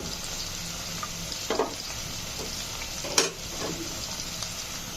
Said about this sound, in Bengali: এখন পেঁয়াজটা একটু হালকা ভেজে নিব, ডিপ ভাজবো না, হালকা ভেজে নেব